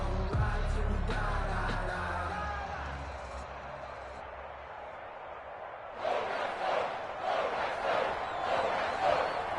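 Sold-out stadium crowd in the Madden NFL 21 football video game, a steady roaring murmur with swelling cheers and yells, rising louder near the end.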